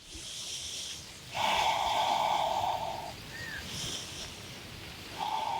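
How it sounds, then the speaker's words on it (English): Slow, deep breaths are drawn in and let out during a yoga neck stretch, a soft airy rush that swells for a couple of seconds and then fades, close and quiet with no talking. "Breathing deeply here."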